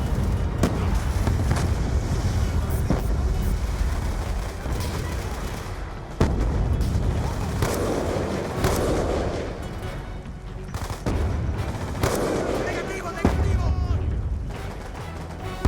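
Dense machine gun bursts and scattered gunshots in a Call of Duty Black Ops 2 campaign battle, loud and continuous with heavy booms, while voices call out over the firefight.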